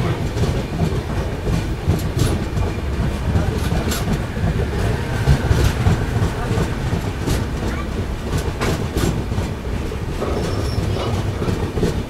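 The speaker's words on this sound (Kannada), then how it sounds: "ನಮ್ಮ ಟ್ರೈನ್ ತಲುಪಿದೆ ಭಟ್ಕಲ್ ರೈಲ್ವೆ ಸ್ಟೇಷನ್ಗೆ." A Mangalore–Mumbai CSMT superfast express pulls into Bhatkal railway station on the Karavali coast, with steady loud rumble, rhythmic clickety-clack of wheels over rail joints and faint squeal, continuous for the whole stretch.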